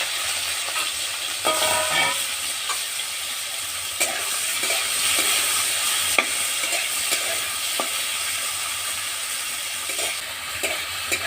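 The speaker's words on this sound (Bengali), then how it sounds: "চিংড়ি মাছ ভাজার জন্য আমি কড়াই তেল দিয়ে দিলাম গরম হয়ে গেছে আমি এবার মাছগুলো দিয়ে দেবো" Prawns fry in hot oil in a wok, a dense, steady sizzle filling the scene with occasional stirring clicks and scrapes, close and continuous without speech.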